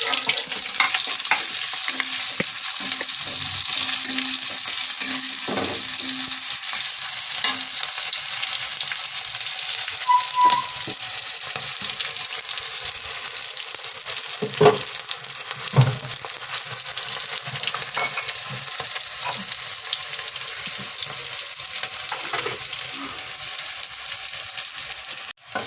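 Onion, bay leaf and chili frying in a pan, a steady loud sizzle with scraping stirs of a spoon throughout, close and continuous with no talking.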